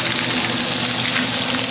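Scallops searing in a hot pan give a loud, dense, unbroken sizzle and crackle, close up and steady throughout.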